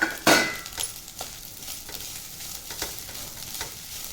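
Boiled mani kozhukattai dumplings being stirred together with their filling in a pan, with a soft sizzle, a scraping stir and a few light spoon clinks, and no voices.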